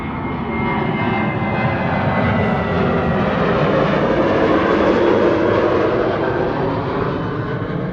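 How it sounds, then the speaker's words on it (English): A KLM Boeing 737 jet departs Amsterdam Schiphol on a sunny winter day, its engines giving a loud, sustained roar that swells gently and holds steady throughout with no voices. "More 737s from KLM."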